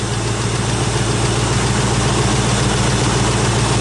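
A Ford Maverick V8 idles steadily during carburetor mixture adjustment, a loud, close, continuous low rumble with an even pulsing throb and no talk.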